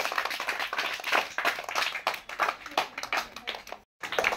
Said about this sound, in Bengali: সবাই জোরে একটা হাততালি হবে।